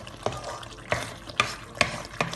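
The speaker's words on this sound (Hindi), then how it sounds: "इसी तरह स्टर करते हुए हम लोग और इसको एक गाढ़ा कर लेंगे" A thickening tikhur mixture is stirred in a pot. Quiet, rhythmic scraping strokes come roughly every half second over a faint simmering background, with no voices.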